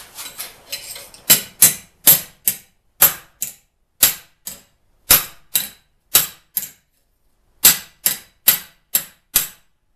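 Hammer striking a grindstone crank arm on a flat spot to straighten it, a series of about twenty sharp, ringing metallic blows in uneven bursts with short pauses, close and loud, no talking.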